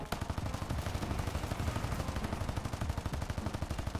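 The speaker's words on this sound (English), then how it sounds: "chew on machine gun fire" Rapid, steady machine gun fire in a video game rattles continuously for several seconds, evenly spaced shots at close range.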